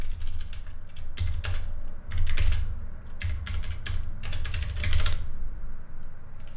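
Code being typed on a computer keyboard: close, quick bursts of keystrokes in uneven clusters with short pauses, no voices.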